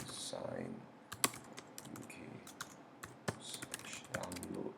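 Fingers type a web address on a computer keyboard, a brisk, uneven patter of key clicks with a few sharper taps, while a voice talks quietly underneath.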